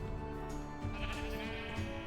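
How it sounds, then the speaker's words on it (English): Sheep bleating in the Township Tales video game, several overlapping wavering bleats repeating steadily over a low farmyard background, moderately loud and close. "I'm just gonna shear all the sheep so that we can get all the wool."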